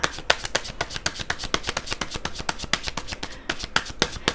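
A deck of tarot cards is shuffled close up, a rapid, continuous riffle of crisp card snaps with no talking.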